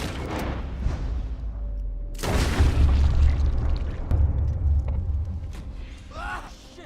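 In Red Dead Redemption 2, a gunshot booms out as a loud, sudden blast with a rumbling tail. A second sharp report follows a couple of seconds later, and brief voices come near the end.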